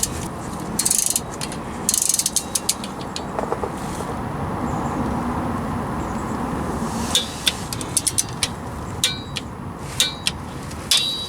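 A torque wrench ratchets while tightening the transfer case plug on an Acura MDX. It gives short bursts of sharp clicking, close and loud, separated by quieter stretches of workshop background.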